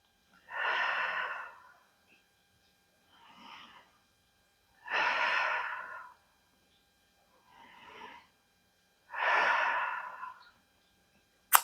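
Slow, deep belly breathing demonstrated alone: three long, audible exhales alternate with softer, shorter inhales in a steady, unhurried rhythm, close and fairly quiet.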